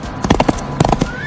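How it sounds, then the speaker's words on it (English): A horse whinnies in a short, bright burst over rapid clip-clopping hooves, all close and loud in an animated animal-sounds song for kids. "Horse says neigh."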